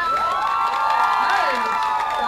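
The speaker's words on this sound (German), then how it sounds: "macht ihr erstmal einen ordentlichen Applaus" Loud crowd cheering and whooping with applause from a concert audience in Potsdam awaiting a singer, many high voices shouting together in a sustained, continuous roar.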